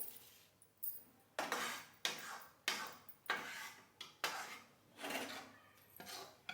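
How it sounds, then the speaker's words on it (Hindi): A spoon scrapes and clatters against metal pots in repeated bursts while roasted gram flour (besan) is turned out into another pot for making besan laddoos, with short quiet gaps between the scrapes. "अब बेसनों को मैं पलट लेती हूँ एक दूसरे बर्तन में।"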